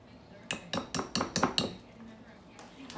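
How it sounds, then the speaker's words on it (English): Six quick metallic clinks and rattles of a whisk against a bowl while strawberry cornbread cobbler batter is mixed, evenly spaced and close, then a quieter pause. "Okay, we'll just whisk all of this together."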